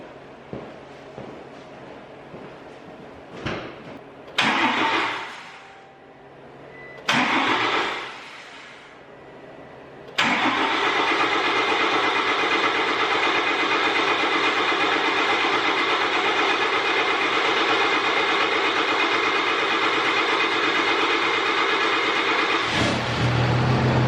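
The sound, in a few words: truck engine starting up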